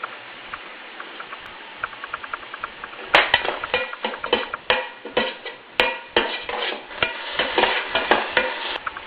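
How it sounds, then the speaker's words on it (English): Mustard and cumin seeds sputter in hot oil, crackling steadily at first and then breaking into a denser run of sharp pops and snaps from about three seconds on, close and fairly loud with no talking. "You really need to hear them sputtering."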